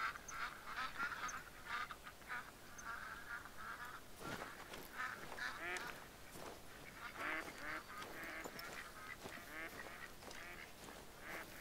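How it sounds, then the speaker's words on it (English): Ducks calling in a hunting video game, a steady chorus of quacks and honks from a flock, moderately distant and layered, continuing throughout with no talking. "Obviously, a ton of ducks over here too."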